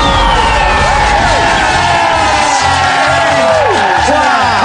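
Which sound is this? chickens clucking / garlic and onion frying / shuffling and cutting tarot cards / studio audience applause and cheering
studio audience applause and cheering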